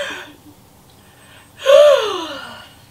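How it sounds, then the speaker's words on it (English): A person yawns alone, a single drawn-out breathy yawn with a rising then falling voiced groan lasting about a second, close and fairly loud after near silence. "I've just yawned."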